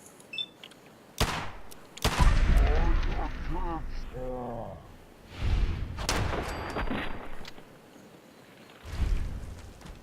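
Shotgun blasts from the video game Fallout 4 go off as several loud, sharp booms spread through the scene, with in-game voices and combat noise between the shots.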